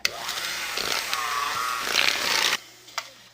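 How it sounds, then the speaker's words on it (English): Electric hand mixer beating eggs, added one at a time, into a chocolate chunk brownie batter in a bowl, a steady close whirring hum for about two and a half seconds that cuts off abruptly, then a brief clink. "I'm going to mix in each egg one at a time."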